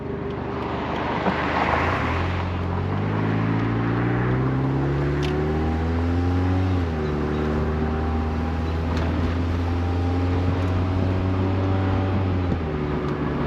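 A 1992 Mazda Miata driven with the top down, its engine humming steadily and rising in pitch through the gears, with wind rush and road noise all around and no voices.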